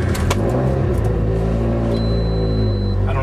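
A cold car engine managed by an AEM EMS standalone ECU fires almost instantly, a quick cranking burst settling into a loud, steady idle rumble, close to the microphone.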